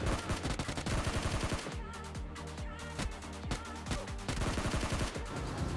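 Rapid automatic gunfire in PUBG Mobile Lite as a player shoots down a bot, with dense, loud, evenly repeating shots that pause briefly before resuming, nearly uninterrupted and with little talk.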